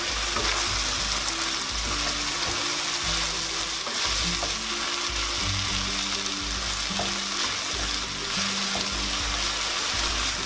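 Seasoned meat with salt and pepper frying in a pan as it is stirred, a constant loud sizzle with scraping and knocking of the spoon against the pan over the top, no voices.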